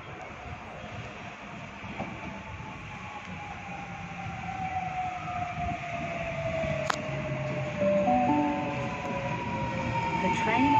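Sydney train arriving at Summer Hill station, a steady rumble with long tonal motor whine rising and falling as it pulls in, moderately loud and building toward the end, with station ambience.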